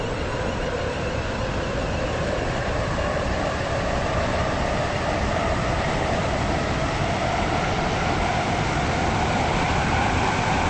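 Steady rumble of a Stepford Connect train in a video game, a continuous rolling drone of wheels and motor that holds at an even, close loudness throughout with no talk.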